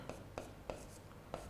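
Chalk or marker strokes on a board during a physics lesson on mirror formulas and sign conventions, four short, evenly spaced scratchy marks set apart from one another, with faint room noise between them.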